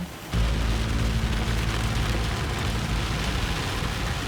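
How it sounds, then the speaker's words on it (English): Heavy rain pours down on a mountain road at Bessang Pass in Ilocos Sur, a loud, steady, dense roar that sets in after a brief quiet moment and continues unbroken. "The rain has gotten extreme."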